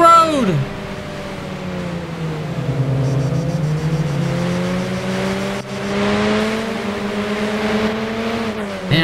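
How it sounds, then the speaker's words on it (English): Car engine in Arma 3 revving hard with a rally-car growl, its pitch climbing, dipping and climbing again as the car speeds along, loud and continuous throughout. "this actually does sound like a fucking rally car"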